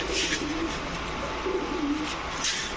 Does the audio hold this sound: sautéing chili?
no